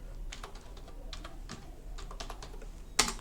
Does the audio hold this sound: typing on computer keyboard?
yes